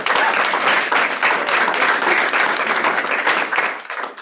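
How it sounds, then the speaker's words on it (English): A room full of people at a meeting clapping steadily and briskly for several seconds, dense and close, fading slightly at the end. "let's give Laura a clap for Play of the Week."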